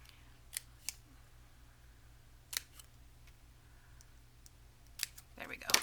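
Scissors snipping paper tags for a folder journal kit, a few sharp, close cutting clicks spaced apart in a quiet room, with a cluster of rustling snips at the end.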